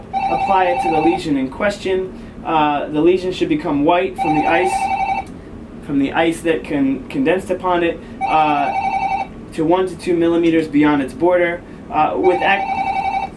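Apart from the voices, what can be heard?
telephone ringing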